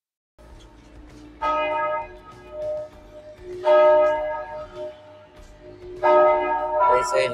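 Church bells ring in Bento Gonçalves, heard out on a city street. The peals come in three or four loud bursts separated by short pauses.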